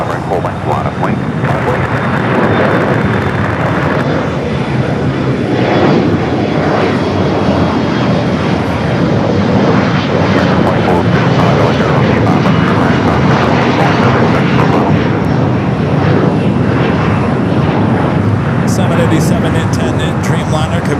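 A United airliner takes off from runway 25 right at LAX, its jet engines a loud, continuous roar that holds steady for the whole stretch while voices talk over the noise.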